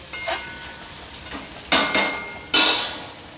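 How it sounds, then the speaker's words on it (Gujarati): Paneer chilli with vegetables stirred in a pan, a spatula scraping and clattering in several quick bursts with soft sizzling between, close and fairly loud, no talk. "એટલે હવે આપણે બધું બરાબર મિક્સ કરી લઈશું"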